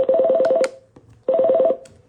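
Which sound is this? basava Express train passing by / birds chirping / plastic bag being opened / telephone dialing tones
telephone dialing tones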